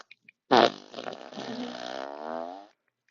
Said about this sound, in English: Extra farts.